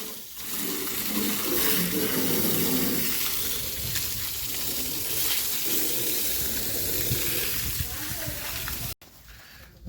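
Steady rushing water spray washing down a surface at a sugar mill, loud and continuous, with a brief cut near the end.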